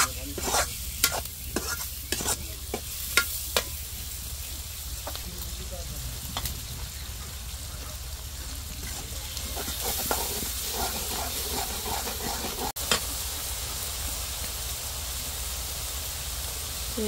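Onions frying in a pan for a pangas fish curry, steady hiss and sizzle broken by sharp clicks of stirring, louder at the start and then settling into a continuous bubbling fry.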